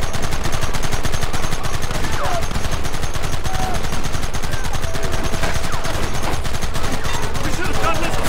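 A posse fires in the Red Dead Redemption video game, with dense, rapid gunfire rattling close and loud throughout, shots overlapping into a constant barrage.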